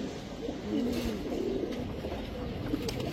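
Low, soft pigeon cooing repeats through a steady background murmur, close by and moderately loud.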